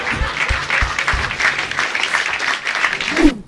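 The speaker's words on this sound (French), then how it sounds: "Et on applaudit Brigitte pour cette belle perf," A comedy club audience applauds a performer named Brigitte, close lively clapping with a few crowd noises mixed in.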